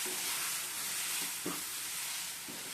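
Roasted semolina stirred into pineapple paste in a pan gives a steady, faint sizzling hiss, with a few soft stirring thumps near the middle and end, and no voices.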